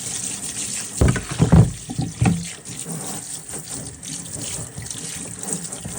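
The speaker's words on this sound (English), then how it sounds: "I'm just gonna take and rinse everything off really good." Water from a tap runs over a deer skull being rinsed clean after whitening, a close, steady splashing stream with louder bursts of water hitting the bone in the first couple of seconds.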